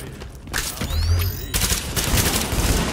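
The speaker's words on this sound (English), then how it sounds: "Reporting gunfire in the station above us." Rapid bursts of loud gunfire with sharp, overlapping shots and a short pause between volleys, close and intense, in a firefight in the video game The Division at Grand Central Station.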